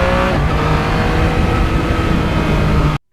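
A 2020 Yamaha MT-09 motorcycle with 18,000 miles runs with a loud, steady engine drone that holds constant, then cuts off abruptly at the end.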